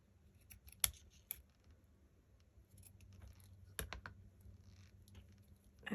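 Scissors cutting scrapbook paper while making tag pockets, a few faint, sharp snips and crisp clicks scattered over a quiet room, close to the microphone.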